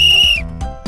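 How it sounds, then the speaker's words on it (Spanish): A cartoon referee at a football match blows a whistle hard, giving one loud, shrill blast that cuts off sharply after about half a second, followed by short low thumps. "Noodle es árbitro y hace sonar el silbato con fuerza"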